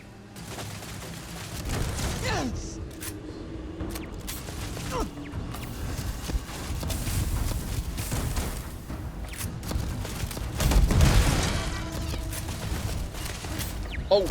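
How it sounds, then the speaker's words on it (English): Dense bursts of gunfire and clanking robot machinery from a sci-fi space shooter battle in Starfield, with booms and crashes in a busy, sustained firefight and no talk over it. "Oh, that is a lot of gunfire and robots."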